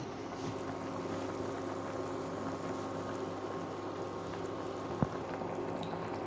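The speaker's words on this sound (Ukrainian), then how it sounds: "викладаємо так в один ряд у киплячий соус і тушкуємо до готовності" Meatballs laid in a single row simmer in boiling sauce, a steady close bubbling hiss running evenly throughout with one brief tap near the end.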